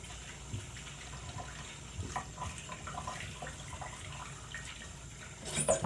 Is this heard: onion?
no